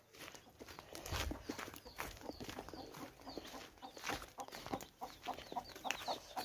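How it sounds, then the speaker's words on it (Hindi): Hens cluck softly on a farm, with faint scattered calls and scratching or footstep sounds, fairly quiet and without talk. "और ये देखो मुर्गी"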